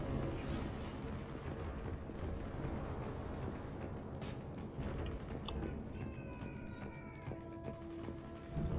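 Heavy combat from the video game Mass Effect 3: a dense, continuous rumble of blasts and gunfire-like bursts that stays loud throughout, with brief higher tones layered in near the end.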